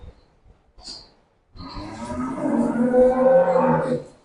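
Dairy cows in a farm shed, one giving a long, loud, deep moo that swells and holds for over two seconds after a few faint knocks.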